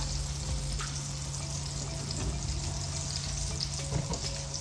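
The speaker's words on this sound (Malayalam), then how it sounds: "പാത്രത്തിൽ 1 ടേബിൾ സ്പൂൺ വെളിച്ചെണ്ണ ഒഴിച്ചു കൊടുക്കാം" A tablespoon of coconut oil goes into a hot kadai, giving a steady, close hiss and faint sizzle with no talk.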